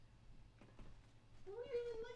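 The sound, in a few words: cat meowing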